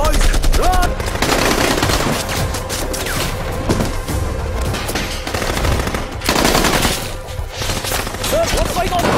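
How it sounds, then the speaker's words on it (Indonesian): Rapid automatic gunfire rattles in dense bursts during a terrorist attack scene in the action film Wild Dog, loud and continuous with brief pauses, mixed with crashing impacts. "kelompok teroris yang langsung menghujani mereka dengan peluru"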